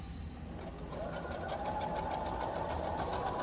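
A sewing machine stitches through fabric for a holiday bookmark, running in a steady, continuous mechanical whir with a fast repetitive stitching pulse, close and alone.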